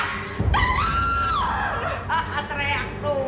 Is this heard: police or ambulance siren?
no